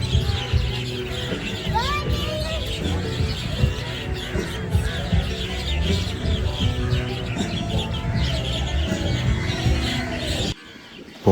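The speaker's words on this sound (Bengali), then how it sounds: "পড়ন্ত সন্ধ্যায় এরম পাখির কিচিরমিচিরের মাঝে সময় কিন্তু বেশ কাটছে।" Birds chirp and tweet at dusk beside Phewa Lake in Pokhara, light calls scattered over a busy lakeside café murmur with people talking nearby.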